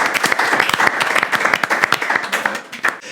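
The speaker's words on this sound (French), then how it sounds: "On continue d'applaudir pour la régie s'il vous plaît" A studio audience at a French comedy show gives steady, dense applause, loud and close, with faint voices mixed in.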